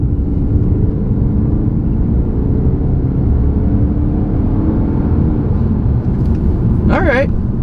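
An Audi car accelerating on a road gives a loud, steady low engine drone and rumble filling the whole stretch from close inside the car, with a brief chirping sound near the end.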